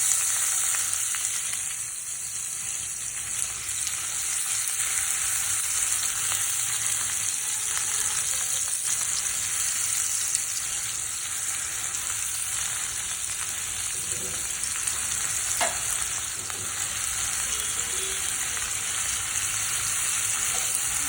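Spring onion bulbs sauté with prawns in a pan, an even close sizzle running continuously with occasional faint stirring clicks and no talking.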